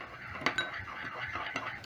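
A utensil stirs a sauce of dark soy sauce, oyster sauce, water and brown sugar in a bowl, making a few light, scattered clinks and scrapes at close range, with no talk.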